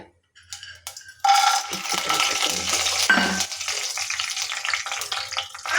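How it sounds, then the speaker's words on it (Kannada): Mustard seeds and chana dal hit hot oil: after a brief quiet moment, a loud, close burst of sizzling and crackling frying starts and carries on steadily to the end. "ಹಾಯಿ ಬಿಸಿ ಆಗಿದೆ ಹೀಗೆ ಸ್ವಲ್ಪ ಸಾಸಿವೆ ಹಾಕೊಳ್ತಾ ಇದ್ದೀನಿ"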